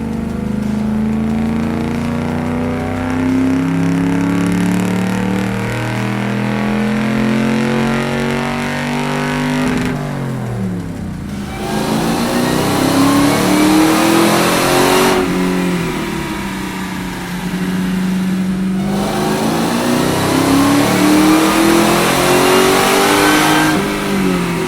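Car engine on a Dynojet chassis dynamometer at Petty's Garage, loudly revving through rising pulls, dropping off and climbing again in repeated sweeping runs, with a strong steady roar and no talking.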